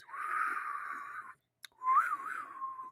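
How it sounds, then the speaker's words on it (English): An attempted whistle: a breathy, airy tone held for over a second, a short gap with a tiny click, then a second wavering whistle that rises and dips in pitch, close and fairly loud with no talk. "I was trying to whistle for effect."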